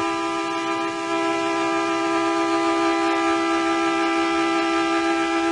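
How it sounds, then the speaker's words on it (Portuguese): A loud air horn carried by football fans into a stadium blares in one long, unbroken, steady tone, with no voices over it. "É uma buzina que vocês levam no estádio?"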